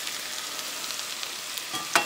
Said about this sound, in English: still sizzling in the iron skillet